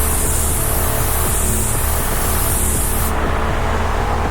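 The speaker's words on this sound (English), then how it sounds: "I like to spray this stuff flat so it actually spreads out" Airbrush spraying polyurethane metallic paint onto an Ibanez RG guitar body, a close, loud, steady hiss of air and spray that holds evenly, then dulls slightly partway through.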